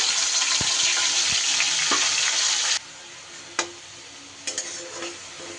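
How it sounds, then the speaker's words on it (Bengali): Tomato, ginger and green chilli paste hits hot oil with a loud, dense sizzle, then settles into a quieter frying hiss broken by a few sharp clinks and stirring taps near the end. "যে টমেটো আদা আর কাঁচা লঙ্কার পেস্টটা তৈরি করলাম সেইটা দিয়ে দিলাম"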